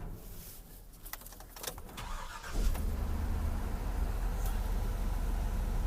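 A 2003 Chevrolet with about 245,000 miles, a former Coca-Cola fleet vehicle, cranks with rattling clicks and then catches into a loud, rough, steady idle that rumbles on close by.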